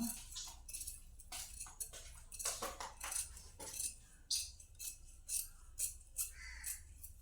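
Scissors cut through blouse fabric in a series of crisp, close snips and slicing strokes, with short pauses and light handling noises between cuts.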